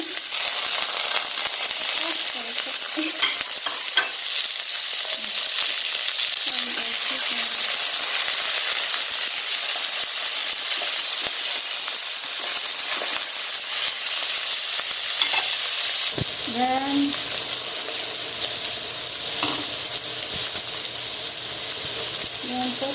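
Chicken fries in a pan for chop suey, a steady loud sizzle and hiss throughout with occasional stirring scrapes and clanks, and no talk.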